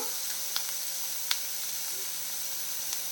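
Chopped banana flower and onion sizzle steadily in a hot pan, a close, continuous frying hiss broken by a few faint clicks of stirring, with no talking.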